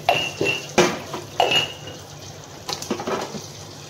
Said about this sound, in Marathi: आता थोडीशी भांडी आहे ती पटापट घासून काढायची